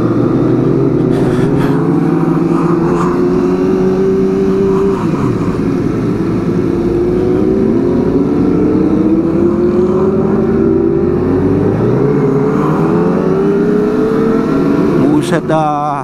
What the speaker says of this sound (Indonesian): Si Gea dan si Sipana menerjang banjir